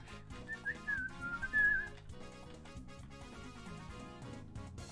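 A person whistles a short, bird-like melody of wavering tones over quiet background music, the whistling clear and close for about two seconds.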